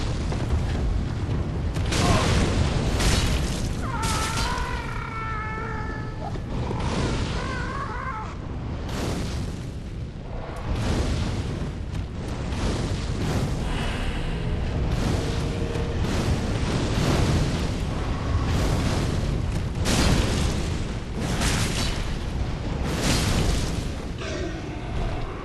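Orbs of fire summoned by the Demon Cleric at Smouldering Lake in Dark Souls 3: repeated booming bursts and whooshing flares over a dense, continuous game soundscape, fairly loud throughout.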